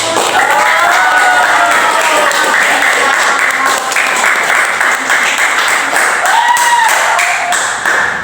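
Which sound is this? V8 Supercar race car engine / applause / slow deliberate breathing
applause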